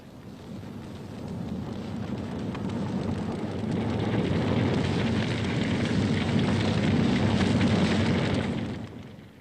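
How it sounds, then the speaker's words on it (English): A bushfire burns through rural Australian countryside, driven by desert winds, a dense, continuous roaring rumble that builds gradually, stays loud and sustained, then eases slightly at the end, with no one speaking. "every summer they may feel it as winds from the deserts bring fires like this."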